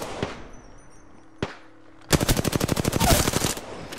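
Gunfire in the Apex Legends video game: two isolated shots, then a rapid, loud burst of automatic fire rattling steadily for about a second and a half.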